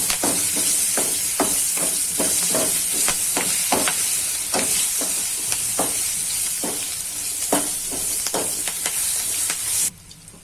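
Chilli is stirred into gunda sambharo in a pan, making a loud steady sizzle broken by a regular run of scraping stirs, until the frying noise drops off sharply near the end.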